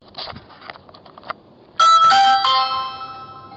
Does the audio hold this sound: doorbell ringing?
yes